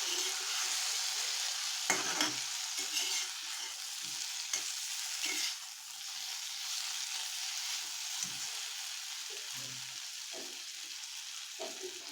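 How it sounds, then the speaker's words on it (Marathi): Red pumpkin vegetable frying in a pan is stirred after the lid comes off, giving a soft continuous sizzle with several brief scraping and clattering strokes of the spatula. "झाकण काढले की हलवायचं आहे थोडंसं"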